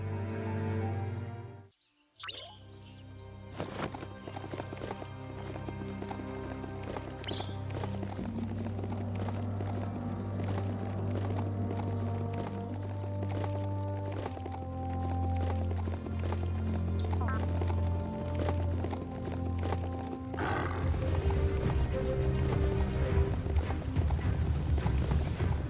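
A large hoofed mount in the video game Biomutant walks with a steady clip-clop of hooves, set against sustained ambient game music and insect-like chirping that continue throughout.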